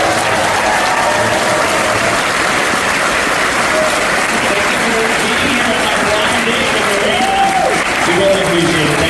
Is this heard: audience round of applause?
yes